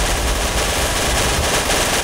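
Continuous loud, rapid automatic gunfire at zombies in Counter-Strike: Source, a video game, roaring as a dense, unbroken barrage with no pauses and no voices heard.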